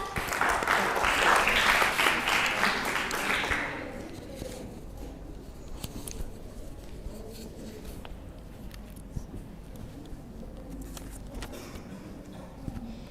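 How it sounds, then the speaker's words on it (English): Audience applause at a speaking summit welcomes an evaluator, a loud broad burst of clapping for about four seconds that quickly fades, leaving quiet room noise with scattered faint claps. "Let's give a powerful clap to welcome the second evaluator, Ms. Lala"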